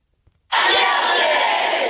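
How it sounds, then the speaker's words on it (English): More than 150 supporters of Karen Read gathered outside a courthouse status hearing let out a sudden, loud roar of shouting and cheering that stays at full strength to the end. "This crowd is here for Karen."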